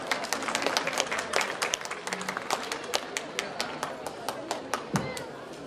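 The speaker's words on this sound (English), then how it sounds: "Now everyone give a round of applause to all the teachers." Audience applause for teachers at a Hindu temple celebration in Saint Louis, a crowd clapping steadily throughout with sharp individual claps standing out, heard at moderate distance, with faint voices mixed in.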